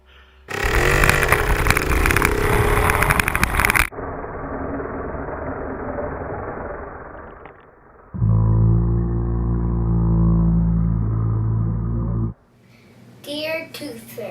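A mini motorcycle engine, used to pull a child's tooth, revs loudly and harshly for a few seconds, then idles and buzzes steadily before cutting out, with a voice briefly at the end.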